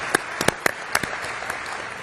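A few scattered, sparse claps from a small audience at a Sony CES press event, a handful of sharp distinct hand claps spread over two seconds, fairly quiet.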